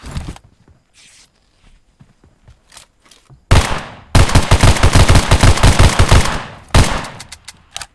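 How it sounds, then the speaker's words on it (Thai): Gunfire in the mobile battle-royale game PUBG Mobile, heard as a single loud shot followed by a sustained rapid burst of automatic fire and another shot near the end, after quieter faint game sounds. "คนยิงนะ"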